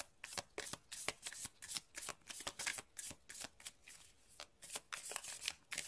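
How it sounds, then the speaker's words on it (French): A deck of oracle cards being shuffled by hand in a quiet room, producing a steady series of soft riffling flutters and taps that repeat rapidly and evenly throughout. "on va tirer une carte supplémentaire pour voir un petit peu l'issue"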